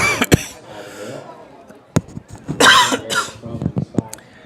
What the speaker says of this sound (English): apologies for the coughs here and there